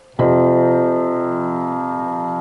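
One rich piano chord from a song struck firmly and left ringing with the pedal, slowly fading, close and alone.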